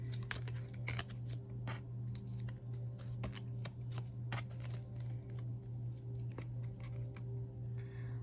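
Tarot cards being shuffled and drawn in repeated quick riffles and snaps, crisp and close against a steady low electrical hum, with no talking.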